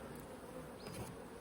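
Honeybees buzz around an open hive while a beekeeper moves brood frames into a nuc box. The swarm makes a continuous, fairly faint, dense hum with no voices.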